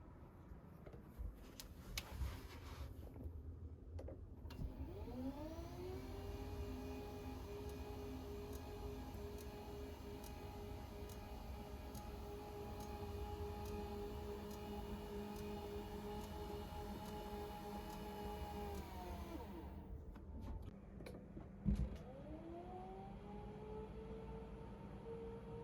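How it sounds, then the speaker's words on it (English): The motor of a Famisky standing desk runs at low volume, rising in pitch as it starts, holding a steady whine for about fifteen seconds, then stopping before briefly starting again near the end. "here I'm going to play a sample of the desk's motor noise."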